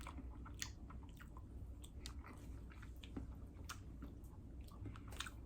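Close, quiet chewing of something crunchy, with repeated crisp bites and mouth sounds at an irregular pace.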